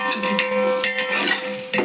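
Carrots and onions being stirred in a cooking pot for vegetable biryani, with a steady scraping and clinking of a spoon against the pot and a faint sizzle underneath, no talk.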